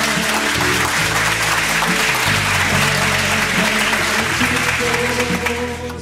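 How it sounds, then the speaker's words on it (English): Round of applause from a church congregation during a service, a dense steady wash of clapping filling the whole stretch with music-like tones underneath, tapering slightly at the end. "Let's give our Lord a big round of applause."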